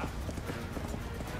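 Horse hooves clip-clop in the video game Call of Duty Black Ops 2, a brief, dense burst of galloping footfalls heard up close with no voices.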